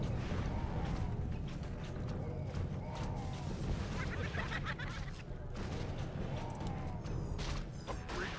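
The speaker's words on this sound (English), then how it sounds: "now we're starting to do some damage with the explosions" Explosions and battle clatter from the strategy game Survival Chaos form a dense, quiet, continuous rumble with scattered bursts and crunches, while someone talks over the game sounds.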